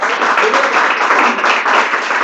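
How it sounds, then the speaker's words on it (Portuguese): A church congregation applauds after a closing prayer, steady loud clapping from many hands that fills the whole moment without pause. "Palmas do Senhor."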